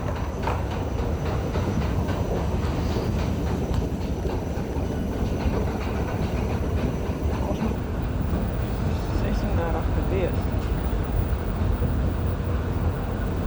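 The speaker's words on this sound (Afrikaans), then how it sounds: "So dit gaan die linkerkant se trein wees." A train rumbles steadily along the rails, a continuous heavy roar with a faint clickety-clack and some voices in the background, sustained the whole time.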